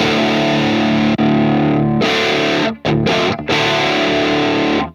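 Loud distorted electric guitar through a Mesa Boogie Mark VII on channel 3 in 2C mode, sustained chords broken by brief stops and choppy muted gaps before ringing out again, with no talking.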